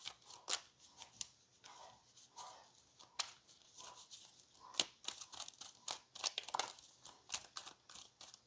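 Tarot cards are shuffled and drawn by hand, a soft, close run of papery flicks, slides and crisp snaps in an irregular rhythm, fairly quiet with no talking.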